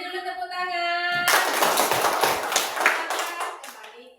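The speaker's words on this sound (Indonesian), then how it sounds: "Beri dulu tepuk tangan." Children in an Indonesian classroom break into lively hand clapping after a voice speaking in a tone, a busy burst of many small hands lasting a few seconds before tapering off.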